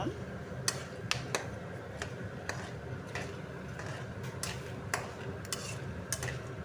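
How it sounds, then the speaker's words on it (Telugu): Podi ingredients are stirred and dry-fried in a pan for Andhra-style kara podi, giving a soft continuous rustle with scattered sharp ticks and scrapes of the spoon while a voice talks faintly underneath. "ఇప్పుడు నేను వీటిని అటు ఇటు కలుపుతున్నాను అనమాట"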